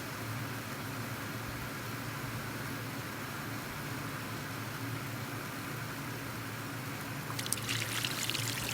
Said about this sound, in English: Get a nice good flow coming out of there, so it's going to flush off all that waste